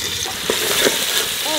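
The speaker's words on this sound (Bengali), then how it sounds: "প্রথমে পেঁয়াজের বেরেস্তাটা বানিয়ে নেব।" Onions frying in hot oil for chicken dum biryani birista, a steady bright sizzle with a few stirring scrapes, close and loud with no voice over it.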